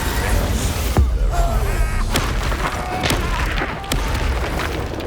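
Bombarda spell blasts in Hogwarts Legacy boom out as sharp, heavy impacts, one big hit near the start followed by several more thumps and crashes amid game combat noise.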